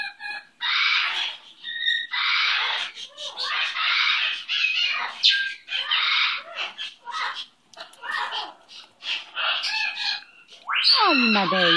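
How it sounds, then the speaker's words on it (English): Pet bird named Dookie calling repeatedly in loud, close bursts of shrill squawks and chattering cries, almost continuous, ending in a sharp rising-then-falling call. "That's my baby bird."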